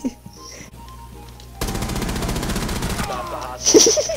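Rapid automatic gunfire bursts out in a Rainbow Six Siege match after a quieter stretch, a dense close rattle lasting over a second, then trailing off before a brief louder sound.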